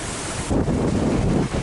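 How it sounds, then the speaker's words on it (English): A strong roar of wind gusting around 20 knots on a sailing yacht buffets the microphone, mixed with rushing water, loud and steady with a surge partway through. "it is really gusting up around the 20s now"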